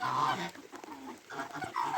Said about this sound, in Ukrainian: бачите, он два півники і третій